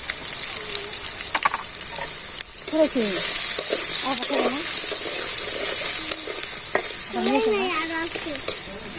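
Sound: potatoes frying in oil

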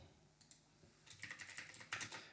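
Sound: typing an SQL query on a computer keyboard

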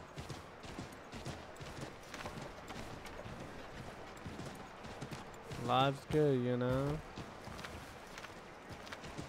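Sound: horse galloping in a video game

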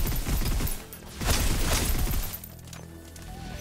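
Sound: gunfire in a video game

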